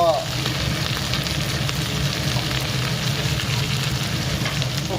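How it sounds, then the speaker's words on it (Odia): Chopped onions fry in hot oil with tempering spices for a country chicken curry, a close, steady crackling sizzle that holds evenly throughout. "ହଁ ତେଲ ପଡ଼ିଗଲା ଫୁଟଣ ପଡ଼ିଲା ପିଆଜ କଷା ହବ"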